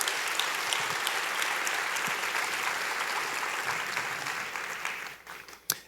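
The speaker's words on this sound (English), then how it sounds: "How about a round of applause?" Spring graduation ceremony crowd giving graduates a warm round of applause, a thick steady roar of clapping from many people that fades down over the last second with a few final scattered claps.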